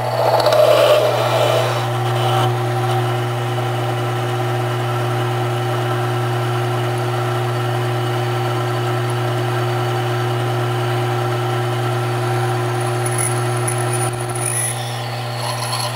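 A drill runs steadily while boring a hole, giving a constant motor hum with strong steady tones and a faint grinding texture. A brief louder scrape comes near the start, and the sound stays close and even throughout.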